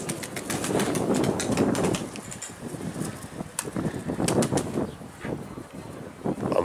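Pigeons take off and fly nearby, their wings flapping in repeated bursts of flutter and clatter, loud and close, with no voices.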